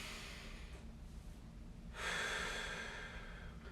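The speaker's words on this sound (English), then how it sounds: "deep nasal breath in." One slow, deep breath drawn in through the nose during a breathing check-in at the end of a spine mobility routine, a soft airy rush that swells after a quiet start and stays close and gentle.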